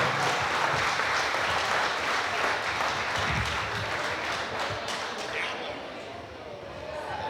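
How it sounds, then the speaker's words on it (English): Audience applause at a charity auction after an item sells, steady broadband clapping from a crowd, loud and continuous with voices mixed in, tapering slightly toward the end. "Give him a round of applause."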